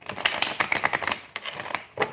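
Tarot cards are shuffled in quick, crisp riffling flutters, close and fairly loud, with no voices.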